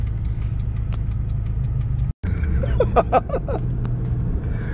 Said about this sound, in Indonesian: Gerengnya knalpot juga berubah ya.